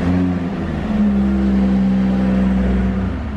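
A BMW M340i Touring engine runs close by with a deep, steady idle hum and low rumble, holding a continuous tone with a slight rise in revs and no talking over it.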